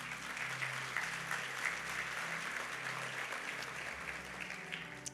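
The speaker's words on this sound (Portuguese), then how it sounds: "Você pode dar um aplauso a Ele?" Church congregation applauding during a sermon, sustained steady clapping from many hands over a low musical drone.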